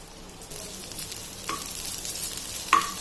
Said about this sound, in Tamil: கடுகு வெந்தயம் பொரிஞ்சு வந்து இதுக்கு நான் கருவேப்பிலை சேர்த்துக்கிறேங்க